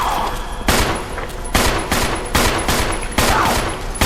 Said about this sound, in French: Bah Wesker, tire-lui un peu dessus aussi, non?